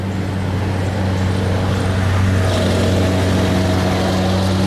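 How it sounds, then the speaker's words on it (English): Road traffic passes by at rush hour, a steady close rumble of engines and tyre hiss that holds throughout with a low hum underneath. "it sounds like a little traffic"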